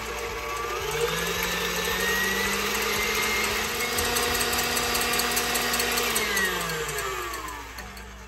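Stand mixer running on high in a bowl of egg whites, a steady loud motor whir with a rising whine that holds for several seconds before easing off, no talking.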